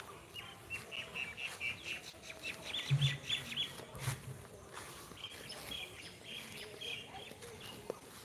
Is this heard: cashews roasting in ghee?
no